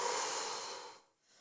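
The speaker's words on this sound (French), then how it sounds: "on soufflera" A long, breathy exhalation released while holding a stretch in a relaxation exercise, a steady airy rush that fades out after about a second, close and alone.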